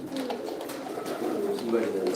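Fancy Sirazi pigeons at a coop farm in Sylhet give soft, continuous cooing close by while someone talks over them.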